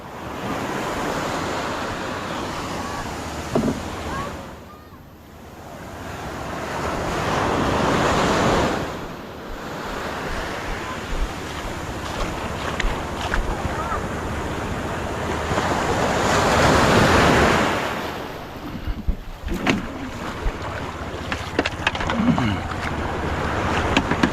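Ocean waves surge and wash close by during a typhoon, swelling and receding in rolling cycles with gusty wind buffeting the microphone.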